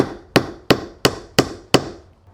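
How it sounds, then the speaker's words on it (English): A 15-in-1 multi-tool drives a small nail, five sharp, evenly spaced metallic taps, each ringing briefly before the next strike, close and loud with no talking. "if you need to put a small nail in, this is one of the most ideal ways to do it if you don't have a hammer handy"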